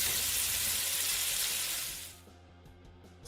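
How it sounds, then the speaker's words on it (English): Loud continuous sizzle sound effect, a bright hissing burst that cuts off abruptly after about two seconds, leaving a quieter low background. "Sizzle."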